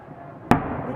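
A single sharp crack bursts midway through a quiet low background, a firework report from a May 9 Victory Day salute in Kaluga, 2018, followed by a short decaying rumble.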